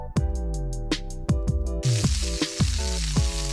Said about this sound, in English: Little sizzling.